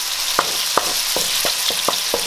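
Egg scrambled into pineapple fried rice in a hot pan, a loud steady sizzle broken by six or seven evenly spaced scraping stirs.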